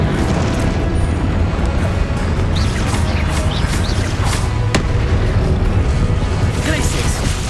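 Confringo spell blasts in Hogwarts Legacy keep booming in a loud, crowded stretch of combat, with one sharp crack cutting through amid other spell sounds and voices.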